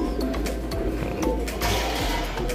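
Pigeons in a breeding pen coo close by amid clatter, wing flutters and scattered clicks, with a low hum underneath and no speech.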